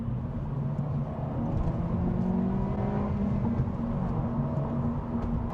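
A Honda Civic Si accelerates in second gear, its engine droning in a steady, rising hum from inside the cabin, continuous and fairly loud throughout with no talking.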